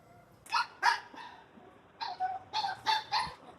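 A dog barking nearby while its food is readied, two sharp barks then a quick burst of four more, loud and clear with no talking.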